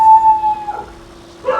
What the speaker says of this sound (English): Please ignore the dog.